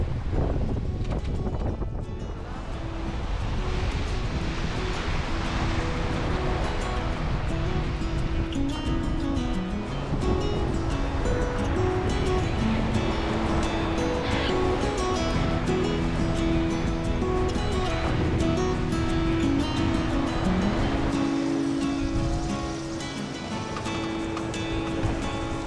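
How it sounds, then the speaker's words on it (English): Offshore in the South Pacific, heavy wind roars and ocean waves rush continuously around a sailing yacht surfing the swells under its genoa, with loud buffeting gusts and sloshing water. "Fully surfing the waves"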